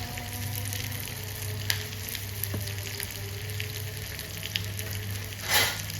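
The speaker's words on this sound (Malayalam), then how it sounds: "കുറച്ച് ചെറിയ ഉള്ളിയും കറിവേപ്പിലയും കൂടി ഒന്ന് തളിച്ചു കൊടുക്കാം." Chopped shallots and curry leaves sizzle steadily in hot oil for a mushroom masala, a constant close frying hiss with a few sharp crackles and a brief louder burst near the end, no voices.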